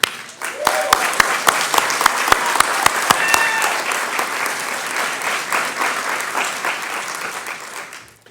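Audience applause at a 2019 Tacoma graduation ceremony: dense, sustained clapping from a crowd with a few sharp nearby claps early on, fading out at the end.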